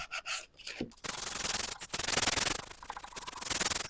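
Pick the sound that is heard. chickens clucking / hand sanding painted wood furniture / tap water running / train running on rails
hand sanding painted wood furniture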